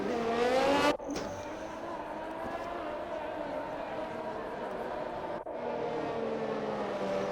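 F1 race cars on a formation lap in a racing video game at the Saudi Arabia Grand Prix, engines droning steadily with a couple of gear-shift breaks while a voice talks over them.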